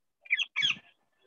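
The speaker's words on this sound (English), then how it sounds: "Listen everyone, the sound of parrot." A short bird squawk in two quick harsh bursts, fairly faint, then silence.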